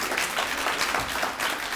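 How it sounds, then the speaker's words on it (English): Audience applause in a crowded room, broad continuous clapping that stays loud and even for the whole short stretch. "And you can applaud that."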